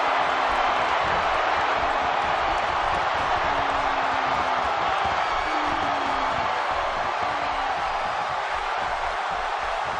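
Arena crowd in WWE 2K17 at a Steel City wrestling match, a dense continuous roar of cheering and whooping that stays loud and steady throughout.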